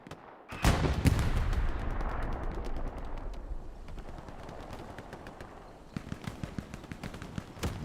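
Gunfire in the World War II video game Hell Let Loose: a dense, continuous battlefield barrage of rifle and machine-gun shots, with sharp nearby cracks picking up again near the end.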